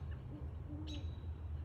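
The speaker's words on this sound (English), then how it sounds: "This is a pair of owls" A pair of owls hoot in a neighborhood in St. Charles, soft low calls carrying at a distance over a steady background hum, with no voices.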